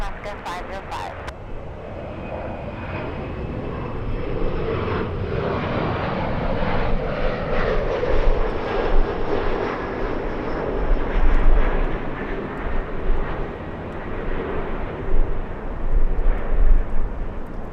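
An Embraer E175 jet landing at LAX on a gusty day, its engine roar and rushing noise rising and swelling, with people talking over it throughout.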